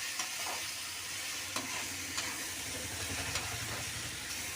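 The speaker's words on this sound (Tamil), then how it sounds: "முடிவு வாங்க மறுபடியும் கலந்து விட்டுக்கணும்" Onion, tomato and potato frying over a high flame, a dense continuous sizzle with a low rumble beneath it and a few faint stirring clicks spread through.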